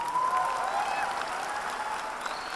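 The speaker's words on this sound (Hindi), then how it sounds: "यहां खड़े होकर लोग ताली बजा रहे हैं" A standing crowd applauds at a direct-selling business event, a dense, even wash of clapping that holds at a steady level for a few seconds with no voices over it.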